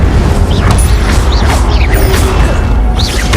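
Incendio fire spell cast in Hogwarts Legacy, heard as a dense, loud burst of magical whooshes and booming pops, with rising chirpy sweeps over a constant low rumble of game effects.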